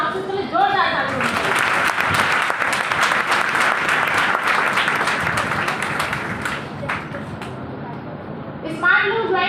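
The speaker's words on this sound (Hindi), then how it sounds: "इसके लिए जोरदार ताली" Loud, sustained applause from a training-event audience, heavy many-handed clapping that rises quickly and holds before tapering, with voices speaking briefly at the start and end.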